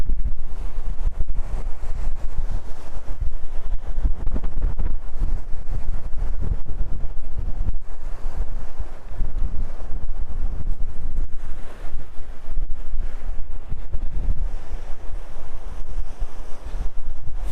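Breezy wind at JFK airport in New York roars across the microphone in a loud, continuous rush with gusty fluctuations throughout.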